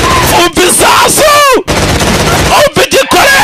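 Gunshots in a dubbed Indian action film come as several loud, sharp cracks separated by short gaps, layered with shouting voices and dramatic soundtrack.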